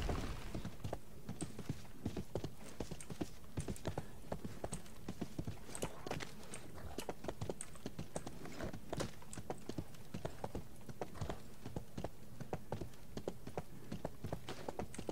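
A horse's hooves clip-clop steadily in the fantasy video game RIFT, a quick repeating trot of crisp, quiet hoof taps going on throughout with no talk over it.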